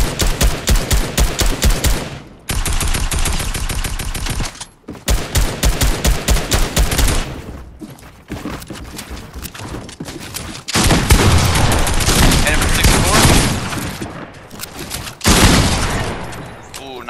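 Rapid automatic gunfire in the video game Fortnite, loud and close, coming in several long sustained bursts separated by brief pauses, with some player talk mixed in.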